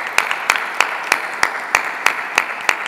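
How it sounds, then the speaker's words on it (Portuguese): Congregation at a Catholic Mass clapping together in a steady rhythmic beat, about three claps per second, with loud, evenly spaced sharp claps filling the church and no talk over them. "Vamos aplaudir a palavra de Deus com muita alegria"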